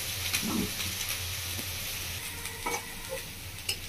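A spatula scraping and smoothing sandesh sweet in a pan, with soft sizzling under quiet, intermittent stirring strokes close by.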